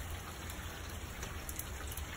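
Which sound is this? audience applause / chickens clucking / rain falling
rain falling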